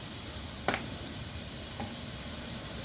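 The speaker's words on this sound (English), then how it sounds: "Now, I'm going to stir these veggies around until not quite caramelized" Vegetables sauté with garlic powder in a pan, giving a steady sizzle with a couple of brief scraping stirs, one sharper and one fainter.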